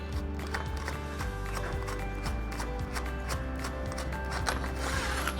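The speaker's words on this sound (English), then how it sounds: "you simply unscrew this plastic nut. Takes a second to do because it is long enough" Long plastic mounting nut being unscrewed from a faucet shank, giving a steady run of small ratcheting clicks and creaks, close and continuous, with no talking.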